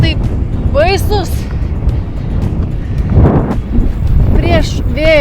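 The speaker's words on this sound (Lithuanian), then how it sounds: "Vau, vėjas tai kvapą užima" Strong wind buffets the microphone of a cyclist riding solo around Lithuania, a loud continuous low roar with gusting surges, while a voice speaks over it in short bursts.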